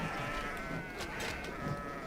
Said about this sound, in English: This is hungry bandits getting wrecked by goats.